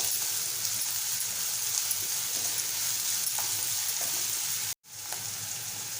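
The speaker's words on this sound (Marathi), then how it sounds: "कांदा नरम होईपर्यंत आपल्याला तेलामध्ये परतवायचं आहे" Chopped onion frying in hot oil in a kadhai, a steady broadband sizzle running evenly throughout with a brief dropout near the end.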